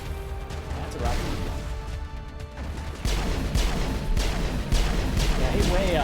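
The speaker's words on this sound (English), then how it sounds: "That's a rocket." A rocket fired in the Mass Effect video game bursts in abruptly about halfway through as a loud, broadband blast, followed by further impacts and rumbling battle noise over a busy game soundscape.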